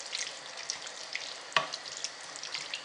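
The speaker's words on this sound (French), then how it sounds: "Je mélange le tout." Ingredients for a malsouka tajine are stirred in a hot pan, with a soft, steady sizzle, light scraping and one sharp clink of the utensil against the pan midway, all fairly quiet and without speech.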